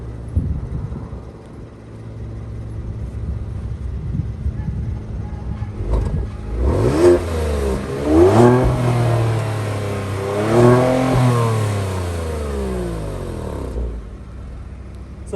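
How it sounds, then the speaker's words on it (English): A 2022 Kia Stinger GT2 in comfort mode revs its exhaust close by: a low idle, then three rising-and-falling revs that climb and drop back, ending in a steady idle. "we're going to be getting some clips of it in different exhaust modes and how it sounds per rev"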